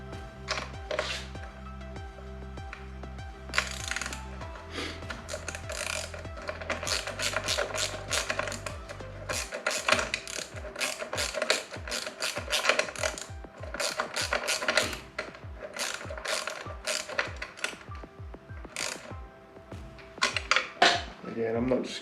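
Ratchet wrench snugging bolts on a Husqvarna 701 rally travel bike build, heard as many quick metallic clicking bursts in uneven runs, close up, over a steady mechanical hum in the first half.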